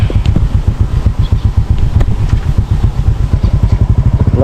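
A motorcycle engine chugs loudly and close while riding through floodwater, its rapid rhythmic putter pulsing steadily with clattering texture and no break.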